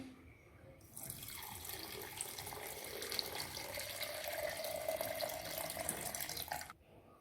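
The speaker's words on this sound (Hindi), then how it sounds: "थोड़ा सा पानी शामिल करेंगे।" Water runs into a container to dilute freshly ground mint for a homemade mint juice, a continuous splashing pour that starts after a second and stops abruptly near the end.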